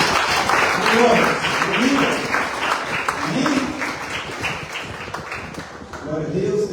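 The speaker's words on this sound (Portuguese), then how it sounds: "Bate palmas para Jesus" A church congregation claps for Jesus, a lively, sustained round of applause from many hands, with voices speaking and calling out over it.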